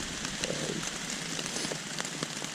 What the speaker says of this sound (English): You can probably hear the rain hitting the tent.